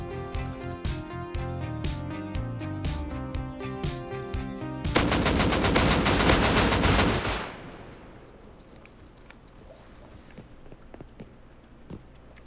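Rapid automatic AK gunfire and revolver shots in a video game, a dense burst of cracks over background music that rises into a sustained loud volley, then cuts off into quieter ambience with a few faint steps.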